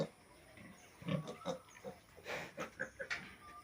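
A Hampshire pig on a pig farm gives a series of short, soft grunts in an uneven rhythm, faint and nearby, with small squeaks from piglets mixed in.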